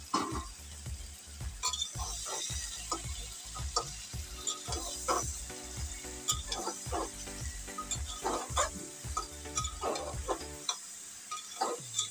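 Meat added to frying onions sizzles in a pan while a spoon stirs and clinks against the metal in an irregular, busy rhythm, close and fairly loud.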